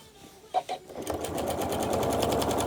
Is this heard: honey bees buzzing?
no